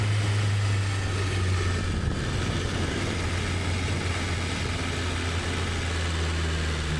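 A BMW S1000RR motorcycle, vibrating constantly while ridden, gives off a continuous droning engine hum mixed with wind rush. The sound holds loud and even throughout, with no voices.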